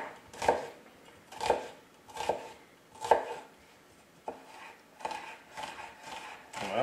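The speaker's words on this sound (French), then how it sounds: "on va émincer les oignons et l'ail" A knife strikes a cutting board in a steady series of sharp chops, roughly one per second at first and then quicker and lighter, as onions and garlic are minced for patatas bravas.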